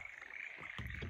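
Frogs croak in the night, a fairly faint, steady chorus in the background, with a couple of louder, closer croaks near the end.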